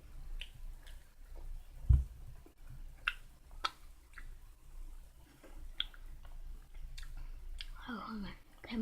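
Someone eats Popin' Cookin' candy up close, with soft sticky chewing and squishing, occasional clicks and a bump, while quiet speech murmurs in the background.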